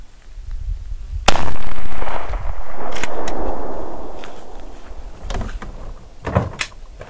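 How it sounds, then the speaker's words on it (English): A 9x19 pistol fired with a 115 grain Sierra hollow point load during a penetration test, one loud close blast followed by a long decaying rumble, then a few lighter knocks and clatters. "next shot is 115 grain Sierra hollow point"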